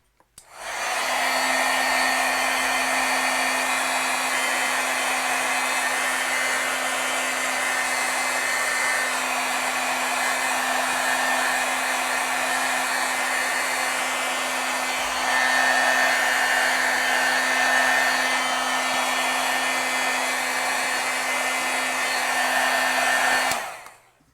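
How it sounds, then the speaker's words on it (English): An embossing heat tool blows steadily over heat-set stamped ink on a scene card, a loud continuous whirring hiss running unbroken for about 23 seconds with no one talking. "Okay, now let's go ahead and heat set this again."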